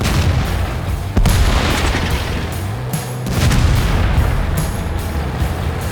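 Tank destroyer cannon fire during a tank video game battle: loud, booming shots and impacts over dense, continuous battle noise, with a sharp blast near the start and another heavy hit a couple of seconds later.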